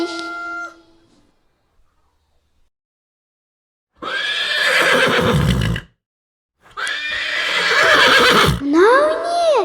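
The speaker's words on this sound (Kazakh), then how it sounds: "Ой, бұл ат екен ғой." A horse neighs in two loud, close whinnies, each lasting about two seconds and rising and falling in pitch, after a brief fading call at the start and a silent gap.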